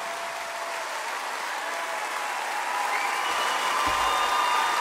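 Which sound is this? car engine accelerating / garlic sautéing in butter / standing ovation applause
standing ovation applause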